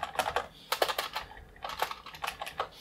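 Light, soft typing on a low-travel membrane keyboard in quick irregular bursts, with a short pause in the middle, close and fairly quiet.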